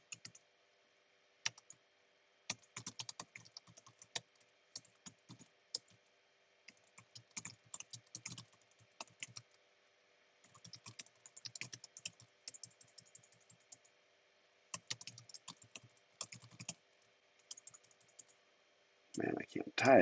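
Bursts of rapid clacking keystrokes on a computer keyboard, irregular clusters with brief pauses across the stretch, close and fairly crisp, ending in a louder rustle.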